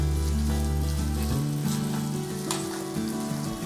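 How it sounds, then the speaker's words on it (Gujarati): Grated fresh turmeric sautéing in hot ghee while a spoon stirs it, a continuous soft sizzle over a steady music bed, faint and without voices. "હવે આપણે એને ચમચા વડે ચલાવતા ઘીની અંદર સાંતળી લઈશું"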